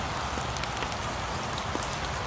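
Steady rain falls on an outdoor surface on All Saints' Day, a dense continuous patter of drops at an even, moderate level with no voices.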